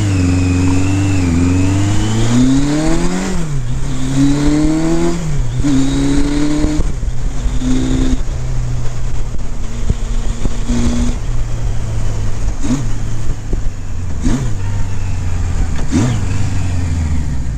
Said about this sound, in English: you can tell by holding the revs up and seeing if the bike starts missing.